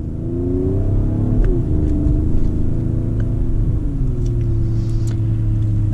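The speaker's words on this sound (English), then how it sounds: "So here is your very minor acceleration." Heard from inside the cabin, a 2019 Mercedes-AMG GLE 43 Coupe accelerates gently, its engine a steady, loud drone that rises only slightly in pitch.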